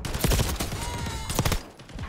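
Rapid bursts of gunfire from a shooter video game, with a dense volley early on and another burst around the middle, loud and close, before a brief lull near the end.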